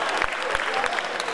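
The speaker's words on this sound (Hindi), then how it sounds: "एक बार जोरदार तालियां हमारे बुजुर्ग के लिए बजा दीजिए आप हजरात" An audience at a Hindi-Urdu kavi sammelan and mushaira applauds, a dense, steady wash of clapping with a few sharper claps standing out. It is brief and moderately loud, and no talk rises above it.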